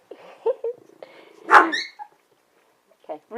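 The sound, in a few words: puppy barking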